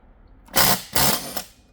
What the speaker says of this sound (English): Let's see how this does taking the clutch off.